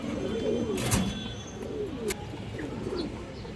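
A pair of black Muslodom pigeons coo softly in low throaty rolls, close by, over a noisy background with a few sharp clicks.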